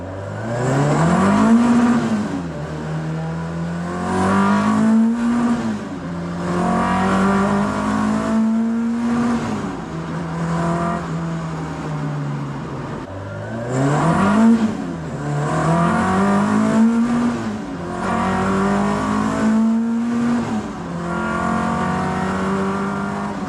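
A car engine misfiring while driving, its drone rising and falling in repeated surges with rough, uneven stumbles as the revs climb, close and loud throughout.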